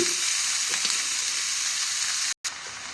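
Leafy greens frying in a hot pan, a continuous close sizzle with a few light stirring scrapes and a brief cutout near the end.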